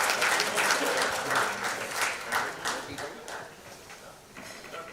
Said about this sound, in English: A big round of applause to all the